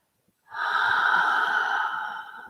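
A single long, steady exhale during a tai chi breathing exercise, close and fairly loud, rising quickly and holding for about two seconds before tapering off, with no talk.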